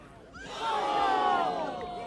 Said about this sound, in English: a big ooh from the crowd is almost a catch from England